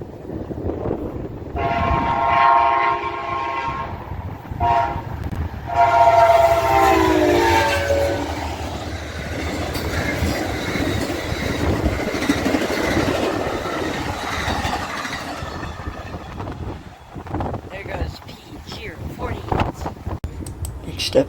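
Freight train K632 led by a pair of KCS locomotives rumbles past, sounding two long, loud horn blasts early on before a continuous roar of engines and rolling cars carries on.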